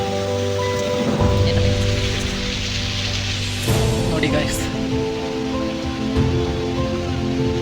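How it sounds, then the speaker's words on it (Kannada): Light rain falls outdoors beside a park on the grounds of Raj Bhavan in Bengaluru, a steady close hiss that runs the whole time while someone talks over it and some tonal background sound plays. "ಮಳೆ ಬರ್ತಾ ಇದೆ ಲೈಟಾಗಿ"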